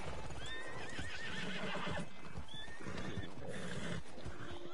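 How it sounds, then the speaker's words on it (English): Several horses whinny and neigh in a crowded Red Dead Online trail ride, their shrill calls overlapping above a steady clatter of hooves and busy game ambience, loud and close throughout. "All the horses are freaking out."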